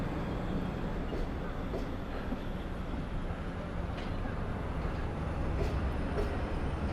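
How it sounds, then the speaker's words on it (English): A Long Island Rail Road train pulls forward, a steady loud rumble of wheels on rails with faint squeals and clanks, continuous throughout, as heard from aboard. "the train is being pulled forward"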